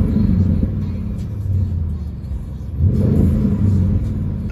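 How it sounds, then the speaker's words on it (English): A high-performance Audi RS6 wagon's engine in RS mode revs up twice, a deep throaty exhaust rumble swelling, easing off, then surging again, loud and close. "So let's rev it up."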